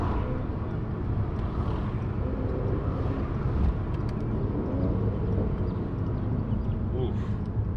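Mercedes-AMG C43 engine running steadily while driving in traffic, a continuous low drone with road and cabin noise, people talking briefly inside the car.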